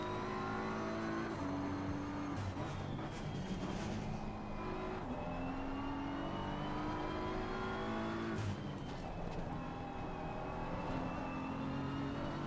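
A BMW race car in the racing game Assetto Corsa Competizione drones steadily at high revs, its engine pitch climbing through gears with brief drops at shifts, continuous and without talk.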